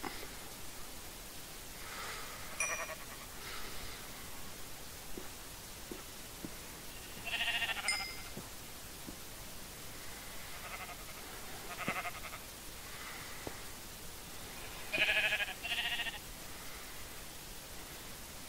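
Sheep bleating in the video game Minecraft, several short repeated bleats at intervals over a hissy background, faint and evenly spaced.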